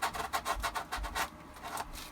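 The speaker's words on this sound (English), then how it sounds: "Some sandpaper. And you notice too, I'm sanding from behind." Sandpaper rasps back and forth across the back of a plastic Shadow Trooper armor piece in quick, rhythmic strokes, close and fairly quiet.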